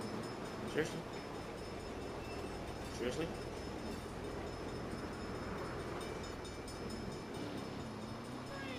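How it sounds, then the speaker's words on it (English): A train rumbles past in the Saints Row video game, a steady heavy roll that runs through the whole stretch, with a few sharp clanks, under a voice. "Bad time for a train."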